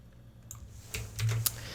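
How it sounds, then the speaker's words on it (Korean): Keyboard typing during a Korean-English language lesson, a short run of soft, close key clicks in a quiet room, a few keystrokes alone without talk. "이번엔 타이핑을 한번 쳐볼까요?"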